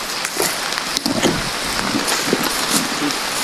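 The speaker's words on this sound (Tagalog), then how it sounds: "Sobrang lakas ng ulan yan." Heavy rain pours down outdoors as a dense, loud, steady hiss of drops, with scattered spattering splashes and occasional thuds layered through it and no speech.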